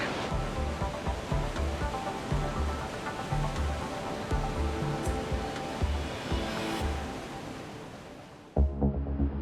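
Treated wastewater from a treatment plant pours into the East River with entrapped air bubbling, a continuous churning rush of water, fairly near, with a brief knock and a quieter tail near the end.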